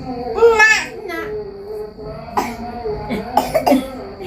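A young child coughs in a few short, harsh bursts close by, mixed with babbling and whimpering vocal sounds between the coughs.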